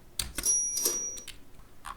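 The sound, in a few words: cash register sound effect from video editor library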